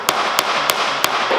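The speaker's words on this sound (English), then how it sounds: "I'm just banging a nail in right there" A hammer drives a nail into wood during boat lofting work, giving four sharp, evenly spaced strikes, loud and close against a steady background hiss.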